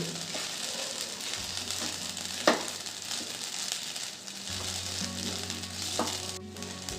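Sabudana and crushed peanuts sauté in ghee, a continuous close sizzle with a few soft stirring clicks, no voices.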